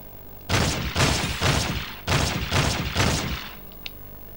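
Gunfire in Fallout: Brotherhood of Steel, fired at a crate: seven loud, evenly spaced shots in two quick bursts, close and punchy, with no talk.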